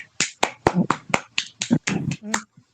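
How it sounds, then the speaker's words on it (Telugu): A few people clap in a series of sharp, close, separate claps spread unevenly over a couple of seconds during an online prayer meeting. "ఎదిద్దే క్లాప్స్ కొడుతున్నాడు అయితే"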